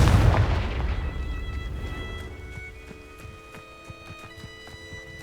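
A Confringo blasting spell in Hogwarts Legacy goes off as a loud, deep booming explosion that rumbles and decays over a few seconds, leaving ringing magical tones and small crackles behind.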